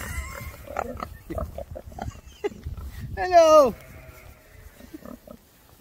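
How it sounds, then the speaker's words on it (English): A pig lets out a short, rising squeal over snuffling and grunting nearby, with a person speaking briefly. "Are you a happy pig?"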